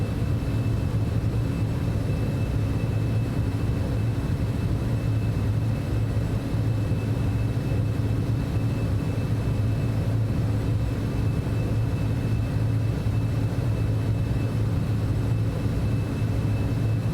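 Citation X business jet climbing after takeoff in the FlightFX flight simulator, its engines giving a steady, unbroken roar with a low rumble and a faint high whine, constant and loud throughout with no talk.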